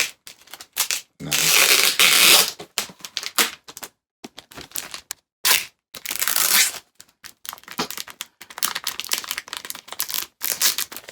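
Scissors cut through a taped comic book package and the wrapping is torn open, giving bursts of crinkling and ripping plastic and paper. The noises come in irregular close snips and rustles separated by short pauses.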